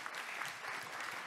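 Conference audience applauding during a talk on gender equality, a soft, distant, continuous patter of many hands clapping.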